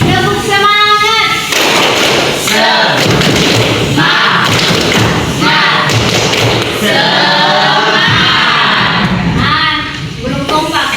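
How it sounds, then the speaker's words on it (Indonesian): A classroom group performs the tepuk semangat spirit clap, sounding rhythmic bursts of claps and thumps punctuated by brief pauses, with voices chanting along between. "Sekarang kita mulai. Tepuk semangat."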